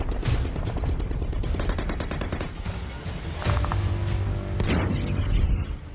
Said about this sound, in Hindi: आसमान पर उड़ते टारगेट को भेदते एंटी एयरक्राफ्ट गन की तबाही मचाने वाले